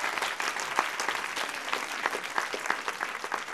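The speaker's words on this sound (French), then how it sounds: "on peut l'applaudir" An audience applauds at the close of a French television segment, dense steady clapping from a studio crowd that carries evenly for a few seconds with no voices over it.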